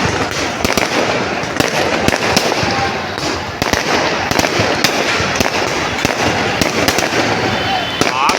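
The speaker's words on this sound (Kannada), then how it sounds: "ಆಗಲೇ ಸ್ಟಾರ್ಟಿಂಗಾಗಿ ಪಟಾಕಿ ಹೊಡೆದ್ರಪ್ಪ, ಅಲ್ಲಿಂದ ಅಲ್ಲಿವರೆಗೂ." Firecrackers burst in rapid, uneven strings of sharp cracks at an RCB victory celebration in Malur, loud and close and continuing throughout, with people talking over them.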